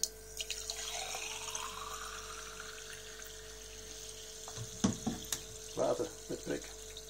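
Carbonated water flows steadily from a home soda dispenser, a continuous hissing pour with a few clicks and bubbly bursts near the end.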